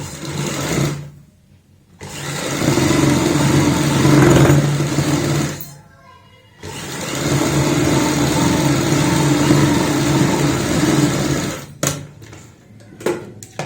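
A sewing machine stitches a frill neck on a kurti in steady running bursts, pausing twice briefly before the motor whirs again close by, with no talk over it.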